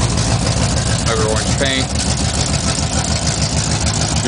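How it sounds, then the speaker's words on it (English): A 1970 Buick Skylark GS fitted with headers, a big cam and dual exhaust idles with a steady, throaty low rumble, close and loud, while someone talks over it. "dual exhaust, very throaty dual exhaust."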